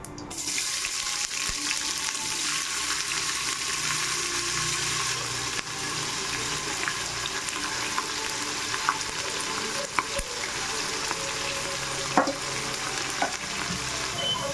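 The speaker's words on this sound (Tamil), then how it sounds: "இலை நல்லா பொரியுது இப்போ வந்து வெங்காயம் சேர்த்துக்கிறேன்" Onions sizzling steadily in hot oil with bay leaves for paneer biryani, a dense continuous frying hiss broken by occasional clinks and scrapes of stirring, close and without talk.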